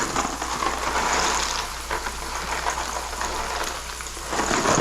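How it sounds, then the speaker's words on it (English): A steady bubbling, hissing wash of boiling water continues as pasta goes into a pot for carbonara, close and even throughout with no talking. "Put the pasta in the water."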